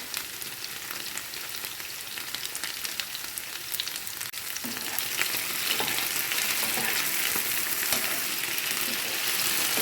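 Steady, close sizzling and crackling of onions frying in a hot pan, growing slightly louder partway through, with no talking.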